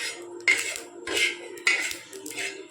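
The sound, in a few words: dry-roasting coriander and cumin seeds in a pan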